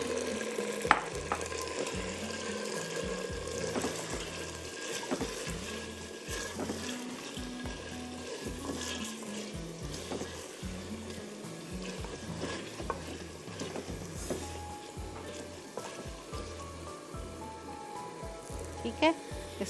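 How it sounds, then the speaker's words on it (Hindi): Chicken marinated in salt and pepper fries in a handi pot with a steady, moderately faint sizzle and bubbling, with frequent soft scrapes of stirring throughout a long stretch. "इसको हम अच्छी तरह 5-7 मिनट फ्राई करते हैं ताकि हमारी चिकन पिंक से वाइटिश हो जाए"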